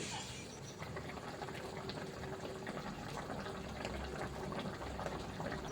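A tomato sauce gravy for momos bubbles at a low simmer, making a soft, continuous burble with faint splashy texture throughout and no talking.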